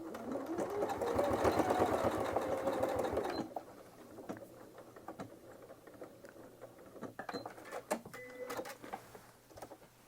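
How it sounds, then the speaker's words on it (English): A sewing machine stitching zigzag stitches on a jelly roll rug, running in a loud, fast, steady whir for a few seconds, then stopping, followed by quieter clicks and handling sounds close by. "I'm just going to come over and do a couple zigzag stitches right here at"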